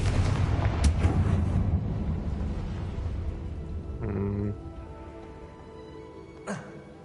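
Confringo spell blasts in the video game Hogwarts Legacy: loud booming explosions with a rumbling low end open the clip, followed by a brief tonal magical burst and a sharp final crack.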